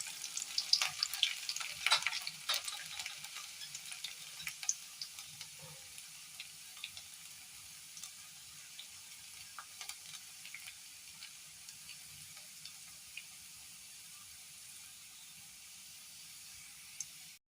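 Chopped garlic cloves fry in a pan for kadhi with a continuous soft sizzle, brighter crackle early on and fading slightly, with no talking.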